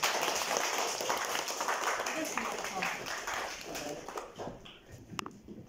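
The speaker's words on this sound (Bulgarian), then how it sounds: "И това, което направиха децата в края на 4-ти клас, мисля, че те наистина заслужават едни огромни аплодисменти." A crowd applauds a fourth-grade class at an end-of-year school farewell ceremony, with steady clapping sustained throughout, fairly loud and close, and a voice briefly heard among it.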